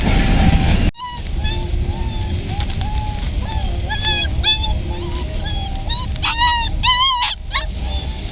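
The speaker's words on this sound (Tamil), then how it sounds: "இங்கே ஒருத்தர் சைக்கிளில் நாய்க்குட்டியை தூக்கி போட்டு எடுத்துன்னு போயிட்டு இருக்காரு. அது வேறு கத்தின்னு இருக்கு." Puppy carried on a bicycle, crying with repeated high whimpers and yelps over steady road and engine noise, the cries growing denser and louder toward the end.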